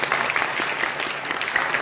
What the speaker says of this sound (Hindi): में चाहूंगा जोरदार तालियों स्वागत भी करें।